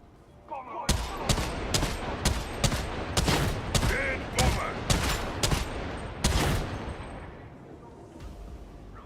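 Full-auto bursts from an Ogryn's stubber heavy gun in Warhammer 40,000: Darktide, a series of about a dozen loud, close repeated blasts in quick rhythm that fade into a trailing echo.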